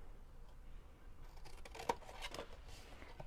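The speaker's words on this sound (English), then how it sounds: "And then I'm going to cut this one off altogether." Scissors cut off a strip of cardstock while making a triangle treat box, a short crisp snip standing out near the middle amid quiet rustling of paper.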